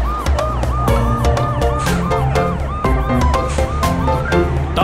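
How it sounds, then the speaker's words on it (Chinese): A cartoon police car siren from a children's animated song about transforming rescue vehicles wails in rising and falling tones, loud and close, woven through bright musical backing with repeated notes. "红警车滴滴呜"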